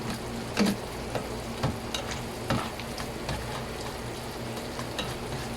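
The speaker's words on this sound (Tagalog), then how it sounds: "And then, of course, you mix well." A spoon stirs burger steak gravy in a pan, making soft scraping strokes at a slow, irregular pace over a quiet background simmer.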